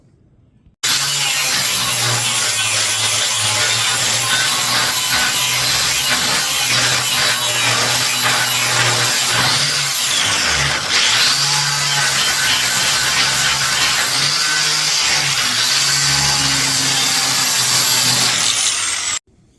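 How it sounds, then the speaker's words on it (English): A power tool cutting through the scrap metal frame of a trailer, giving a loud, continuous abrasive grinding roar with a steady high whine that runs unbroken for most of the stretch, close up. "so we're going to cut this portion off"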